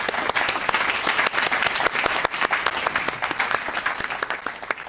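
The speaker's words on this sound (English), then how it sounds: "let's give them all a big round of applause" Applause for graduating family medicine residents at a 2020 ceremony, sustained crisp clapping from a crowd with individual claps standing out, steady and fairly loud throughout.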